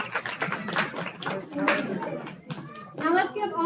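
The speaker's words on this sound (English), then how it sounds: "So if we can give her a round of applause." Applause at a graduation ceremony: a crowd claps in a dense, continuous patter, fairly close, mixed with children's voices and chatter throughout.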